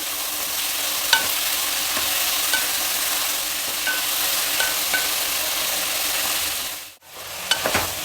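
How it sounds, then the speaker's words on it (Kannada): Chopped vegetables and frozen peas sizzle steadily in hot oil for a pulao, with occasional scrapes and clinks of a spoon stirring the pan, and a brief pause near the end. "ತರಕಾರಿಗಳೆಲ್ಲ ಎಣ್ಣೆಯಲ್ಲಿ ಸಾಕಷ್ಟು ಫ್ರೈ ಆಗಿದೆ"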